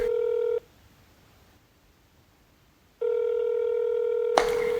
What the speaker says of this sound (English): the dial tone on a phone. So this is what America sounds like.